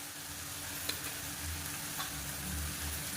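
Pepper chicken sizzles steadily in a pan after spice powder is added, with occasional soft scrapes of a spoon stirring through it, all at close range and without any voices.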